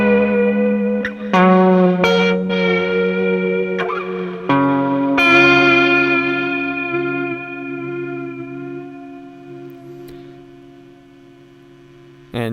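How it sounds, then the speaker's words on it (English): A sustained, warbling synth tone through the Generationloss tape emulation plugin with filter and reverb, with a hazy, tape-like wobble and lingering reverb tail, slowly fading out. "now here's Generationloss with the first filter and reverb"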